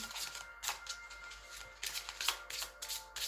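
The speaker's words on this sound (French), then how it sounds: "je vais tirer une seule carte, si elle veut bien" Cards from a deck are handled and shuffled close by, soft riffling bursts with a short pause between them, quiet and with no one talking.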